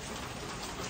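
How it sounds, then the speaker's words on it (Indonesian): Rain falls outside in a steady, dense hiss, close and constant for the whole moment, with no voices. "Tuh hujan."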